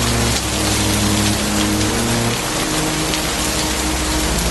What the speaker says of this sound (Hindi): प्रताप मूसलाधार बारिश देखकर बहुत परेशान हुआ